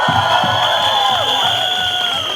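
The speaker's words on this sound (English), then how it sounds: "Guys, huge round of applause for that." A loud college audience cheers and shrieks with sustained high-pitched whoops and whistling at a campus event with visiting celebrities, a dense, continuous roar filling the space close by.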